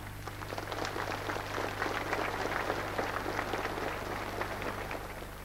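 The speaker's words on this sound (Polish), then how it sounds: "On był zaskoczony tymi oklaskami, nie wiedział, co z nimi zrobić." Sustained applause from a large crowd greeting Pope John Paul II on a pilgrimage to Poland, a steady, dense clatter of many hands heard from a distance under a low constant hum, with no voices standing out.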